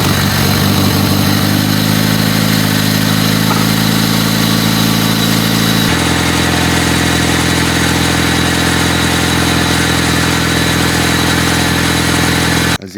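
A Honda D16Z6 car engine idles steadily and loudly after a fresh timing belt and valve lash adjustment, its low, even throb running throughout with a slight shift in tone partway through and no talking.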